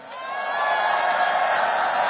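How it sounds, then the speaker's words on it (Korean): Large crowd at an outdoor political rally in Paju swelling into cheers and applause, the roar building over the first half-second and then holding as a loud, sustained wall of voices and whoops. "우리 위대한 우리의 이웃들을 위해서 큰 박수 한번 보내주세요"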